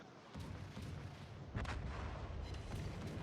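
A warship in a naval combat video game fires shells, with deep booming salvos and a sharper blast midway over a rumbling battle background, fairly faint and with no talking.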